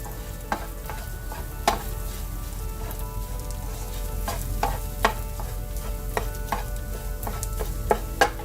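Okra with scrambled eggs stir-frying in a pan, a steady close sizzle under frequent sharp clicks and scrapes of a spatula tossing the food, irregular and ongoing throughout, with no talk.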